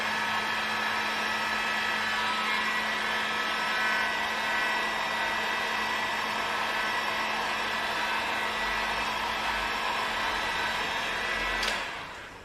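A heat gun blows a loud, steady rush of hot air at a candle jar, an unbroken whooshing drone with a motor whine that holds for about twelve seconds before switching off and fading.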